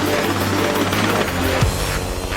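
A helicopter hovers low over a Skoda Yeti, its rotor making a steady, loud, close thrum with a heavy low-frequency pulse that persists throughout.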